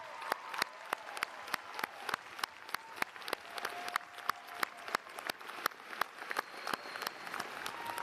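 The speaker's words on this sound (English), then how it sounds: "let's give a round of applause to your family and friends who are here with us today" Graduates clapping for family and friends at a university commencement, with a few prominent individual claps ringing out sharply and regularly over a quieter spread of applause, somewhat distant in a large hall.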